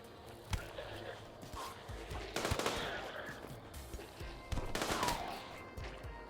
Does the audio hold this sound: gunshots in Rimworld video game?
yes